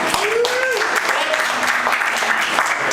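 A comedy club crowd applauds in a broad, even roar while voices call out and sing over it.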